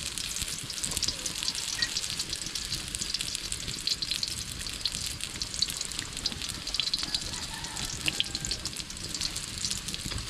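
Food sizzles and crackles steadily in a pan over a big open fire, a dense, even hiss that runs throughout with no talking.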